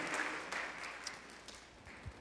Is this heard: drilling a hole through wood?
no